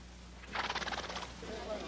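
A shiny black stallion gives a close, wavering neigh that rises and falls quickly over about a second, with quieter noise trailing after it.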